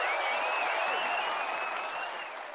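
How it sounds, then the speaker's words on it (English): Dense, loud applause fills the space for a podcast contributor, a continuous crowd clapping that tapers slightly at the end. "Round of applause for him."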